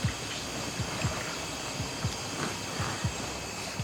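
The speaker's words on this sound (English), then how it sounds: "There's a lot of splashes going on." Water splashes in the dark on an island, several brief soft splashes and knocks arriving irregularly over a constant airy hiss, moderately close but faint.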